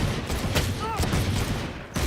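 Gunshots in a Valorant match crack in a few sharp, loud bursts amid busy game noise, with the spaced reports standing out clearly.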